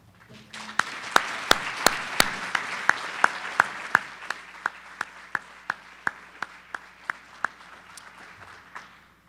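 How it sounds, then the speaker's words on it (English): An audience applauds steadily for several seconds, the clapping sustained and full before tapering off while a few individual claps ring out. "joining us with a round of applause"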